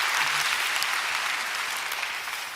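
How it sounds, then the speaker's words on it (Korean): A church congregation claps in sustained, dense applause that holds steady and slowly tapers, with no speech over it. "이 자리에 안 계시지만 우리 두 분에게 한번 박수로"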